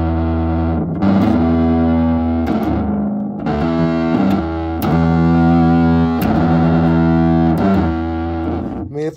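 Bass guitar notes played through an overdrive distortion pedal, thick and buzzing, with sustained gritty tones and a few plucked attacks, loud and close.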